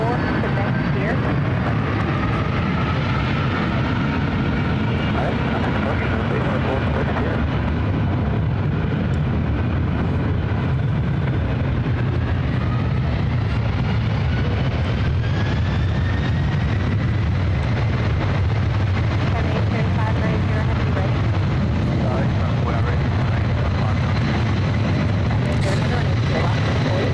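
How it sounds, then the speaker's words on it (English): A Delta Airlines 767-300ER taking off at SFO, a loud sustained jet engine roar with rising whine filling the whole stretch, steady and powerful with little change in level. "This is Delta Airlines 1556 taking off to Atlanta"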